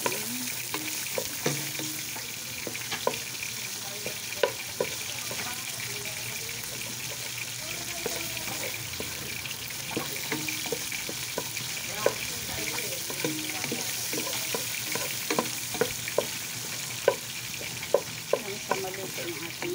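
Ground pork and tomato frying and sizzling in a pan for ginisang sayote, with steady hiss and repeated clicks and scrapes of a utensil stirring throughout, close and fairly loud, no talk.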